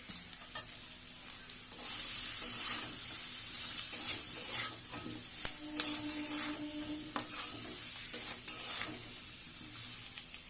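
Chillies with cumin and garam masala powder frying in hot oil, a steady close sizzle broken by scraping stirs and clinks of a spoon against the pan.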